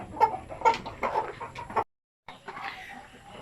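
Chickens on a small poultry farm cluck in short, close bursts, the calls coming repeatedly for almost two seconds before a brief silence and then a softer, busier stretch of flock noise.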